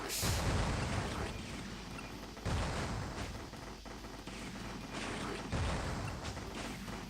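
A bomb detonates in the tower-defense game Super Sanctum, giving heavy booming blasts at about 0, 2.5 and 5.5 seconds over a continuous dense rumble of battle noise, with no voices.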